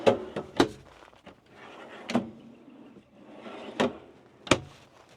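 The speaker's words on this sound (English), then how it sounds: "A couple of storage drawers underneath as well," A few sharp knocks and thuds from storage drawers under a bunk being opened and shut, separated by short quiet stretches with faint rustling in between.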